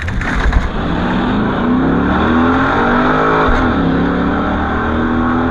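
A Pontiac GTO launches down a drag strip on a bracket racing run, its engine roaring loud and close with a steady climbing pitch through the gears, alone without talk.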